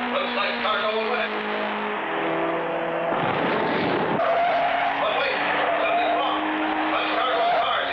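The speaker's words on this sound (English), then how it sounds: "As Clutch's car number 5 comes around" A cartoon race car skids around a wooden board racetrack with loud, drawn-out tire squeals over a roaring engine. A voice and background music sit underneath.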